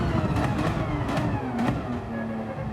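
A Porsche 911 GT3 race car engine roars steadily in Gran Turismo 7, a loud, continuous drone whose pitch rises and shifts as it revs through gears, with no talk over it.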